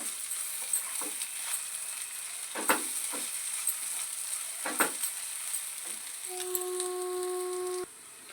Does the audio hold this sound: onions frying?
yes